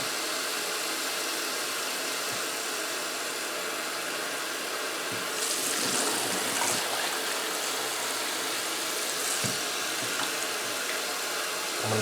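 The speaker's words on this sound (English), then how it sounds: "Dump the bleach water out." Bleach water poured out and draining into a sink during hot water seed treatment, a steady rushing wash of water with a louder splashing surge partway through and a low engine hum beneath.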